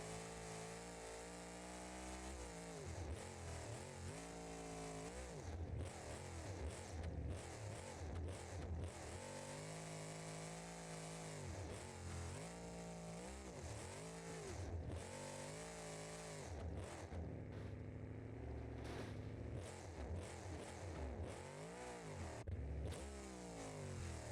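Heavily tuned truck in BeamNG.Drive revving hard with the exhaust cranked to maximum, a loud, continuous, harsh engine roar rising and falling through repeated revs with no talk.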